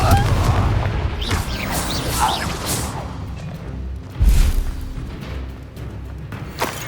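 A Confringo spell in Hogwarts Legacy goes off with whooshing swishes and a heavy booming blast midway, amid a rumbling battle backdrop.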